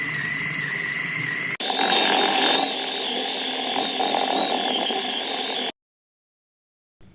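A blender whirs loudly and steadily as it blends a chicken nugget mixture of chicken pieces, ginger garlic paste and spices, changing pitch once partway through before cutting off abruptly into silence.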